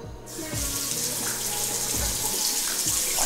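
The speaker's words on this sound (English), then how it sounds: "Washing my hands." A tap runs steadily while hands are washed beneath it in a kitchen during pork butt preparation, the water flowing loud and close throughout with faint splashes and no talking.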